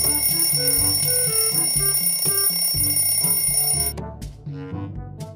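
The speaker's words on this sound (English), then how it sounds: "Suddenly, the alarm clock rings." A cartoon alarm clock rings loudly and steadily with a bright, insistent tone over busy animated-film music, then cuts off abruptly near the four-second mark while the music carries on more quietly.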